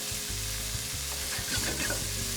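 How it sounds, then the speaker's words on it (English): Pancetta frying in olive oil, a loud, steady close-up sizzle with dense crackling throughout and no voices. "some olio d'oliva, a little bit of pancetta. Pancetta is gonna be the fat for this dish."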